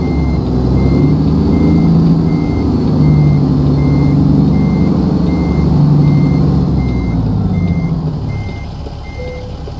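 Truck in American Truck Simulator backs up to a trailer, its reversing alarm beeping in an even, repeating pattern over a loud, steady low engine rumble.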